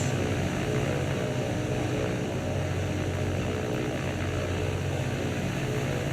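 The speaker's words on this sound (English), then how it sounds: "They've launched bombers." Bomber aircraft engines drone in the naval combat game War on the Sea, a steady, unbroken propeller hum holding at a constant level throughout with no talk.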